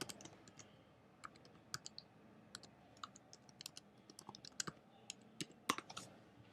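Typing on a computer keyboard for a search query, heard as scattered, irregular key clicks at close range over quiet room tone, with brief pauses between bursts.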